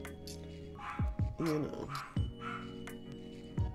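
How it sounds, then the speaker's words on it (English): A dog barks in sharp bursts, four or five loud woofs with a growl between, slightly distant and echoing, a voice briefly speaking. "I apologize if you hear my dog barking in the background,"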